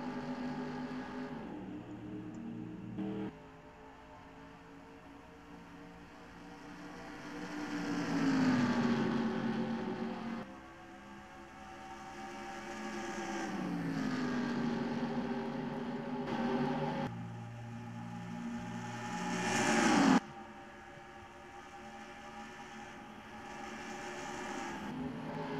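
Race cars in NASCAR Racing 2003 at Atlanta, engines droning in long rising and falling waves as the pack passes, with pitch sweeps and abrupt cuts between engine notes.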